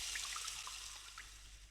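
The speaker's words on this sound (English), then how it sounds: "turn the valve on the side, which will empty all the water out of the barrel" Water gushes and trickles steadily as a barrel drains after its side valve is opened in the Myst game on Xbox, a faint continuous rushing flow with small gurgles and no voices.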